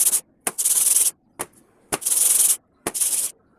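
Brake pad from an Isuzu Traviz being hand sanded with sandpaper during a 30,000 km service: four loud, close, harsh scraping strokes, each about half a second, with short pauses and small knocks between them.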